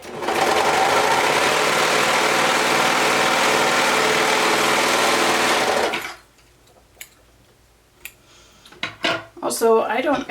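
Serger stitching the seams of a pink rib knit tee at a half-inch seam allowance, a loud steady whirring hum for about six seconds, then it stops and gives way to quieter handling clicks and a voice speaking.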